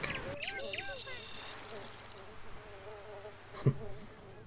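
A buzzing insect from the video game Creatures 2 drones with wavering pitch alongside chirpy game tones, with a short sharp sound near the end.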